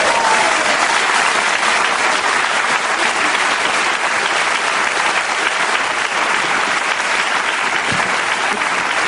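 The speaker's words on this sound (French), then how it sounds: "Applaudissez à loisir." A theatre audience gives sustained, loud applause after a stage performance of the play Faisons un rêve, a dense and unbroken wall of clapping that holds steady throughout.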